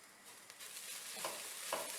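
Turmeric, red chili and coriander masalas sizzle steadily in hot oil, a faint even hiss with a couple of soft spoon scrapes.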